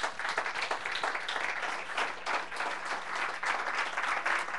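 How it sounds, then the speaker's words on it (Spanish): A church congregation breaks into applause, steady crowded clapping from many hands in a reverberant room, holding at an even level throughout. "Denle un aplauso al Señor."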